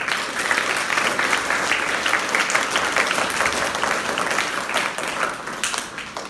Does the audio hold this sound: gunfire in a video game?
no